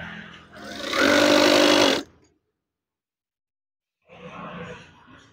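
An electric sewing machine stitches curtain fabric in a loud, steady one-second run, then falls silent and starts again more softly about two seconds later.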